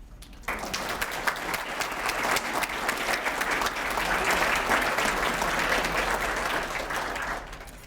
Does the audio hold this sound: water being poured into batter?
no